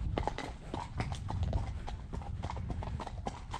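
A horse ridden tackless on a hack clip-clops along in a quick, steady rhythm of close, loud hoofbeats, with no voices.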